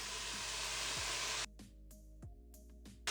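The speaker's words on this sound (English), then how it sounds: "Fry that in the pot here until you get a bit of color on the bacon" Bacon fries in hot olive oil in a soup pot, a dense, close sizzling hiss that runs steadily for over a second and then drops away, leaving quiet with faint spits and pops.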